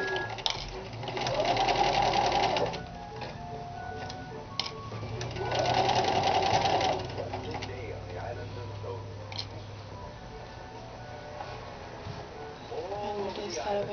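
A sewing machine stitches a Kapp cap style Christian headcovering in two bursts of loud rapid whirring, each about two seconds long, separated by quieter handling sounds, with a faint third run near the end.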